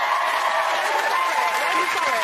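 Steady applause from a TV talk show studio audience fills the room, a dense wash of clapping with voices mixed faintly underneath.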